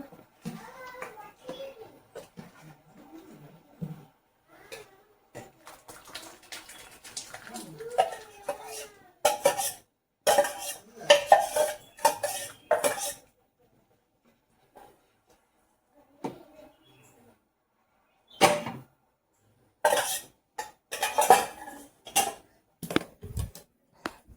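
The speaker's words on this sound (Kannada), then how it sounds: "ಚೆನ್ನಾಗಿ ಮ್ಯಾಶ್ ಮಾಡ್ಕೊಂಡು ಸೇರಿಸ್ಕೊಳ್ಳೋಣ" Raw jackfruit huli curry, an Uttara Kannada Brahmin home recipe, being mashed and stirred in a pot: intermittent bursts of scraping and clinking utensil sounds, separated by quieter pauses.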